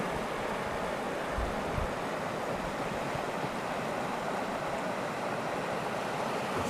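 The Athabasca River rushes past in a steady, dense wash of flowing water, close and continuous, with some wind buffeting.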